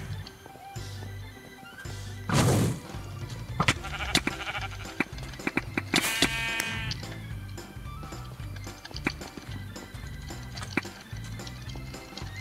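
Sheep bleat in a Minecraft game, a clear bleat rising over busy game music and clicking sounds, with a second bleat a few seconds later.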